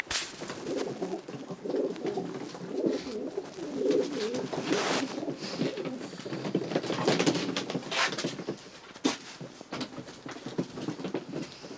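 Breeding racing pigeons of the Meulemans De Klak Janssen line coo in low, repeated rolling calls close by, with soft fluttering and patter between the bursts.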